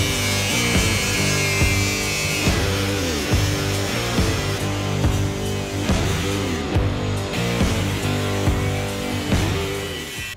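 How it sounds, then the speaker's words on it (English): A 5-inch 36-grit grinding disc grinds down welds on a Toyota Tacoma body mount bracket, a loud continuous abrasive whine with a rhythmic rise and fall as the grinder sweeps back and forth. "we're gonna go and grind the welds down. For that, we're gonna use a 5-inch grinding disc. It's a 36 grit."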